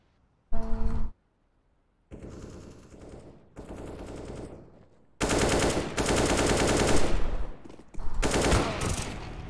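Bursts of rapid automatic gunfire in CS:GO, several loud volleys separated by short silences, close and sharp.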